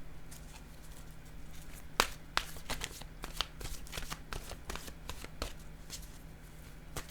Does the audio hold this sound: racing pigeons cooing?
no